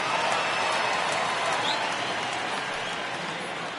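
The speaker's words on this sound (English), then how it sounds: "the home crowd seems a little restless" Restless home stadium crowd at a baseball game in MLB The Show, a dense, steady wash of murmuring and scattered clapping, fairly loud and unbroken, gradually easing slightly.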